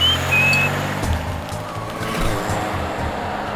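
A car drives off at steady engine volume, its rumble continuing with a brief high squeal near the start.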